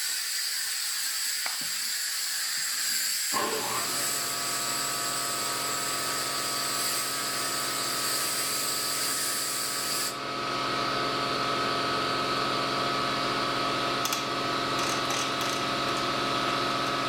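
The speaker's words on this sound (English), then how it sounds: "Sorry about the compressor." An air compressor in a workshop starts up after a few quiet seconds and then runs continuously, a loud steady mechanical drone with a whining hum and hiss that carries on to the end.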